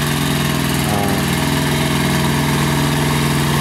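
A two-wheel-drive 18 HP Kubota diesel tractor idles steadily and loudly up close, its engine making a constant, even chug with a slight rhythmic throb throughout.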